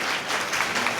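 Audience applause at a Tamil public speech event: a short burst of dense, steady clapping from a crowd, fairly loud and continuous with no talk over it.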